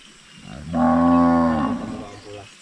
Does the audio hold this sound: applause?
no